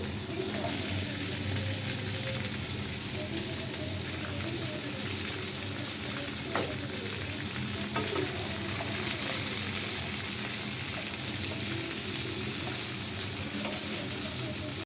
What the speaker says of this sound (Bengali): ভেজে এই যে আলু কুমড়ো আর টমেটোটা দিয়ে দিচ্ছি।